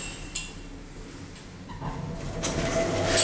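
A worn lift door in the Grand Arcade shopping centre slides shut with a faint mechanical rumble and a few light clicks and clinks, building slightly toward the end.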